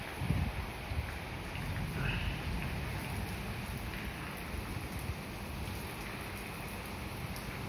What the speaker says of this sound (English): Very windy, blowing the trees.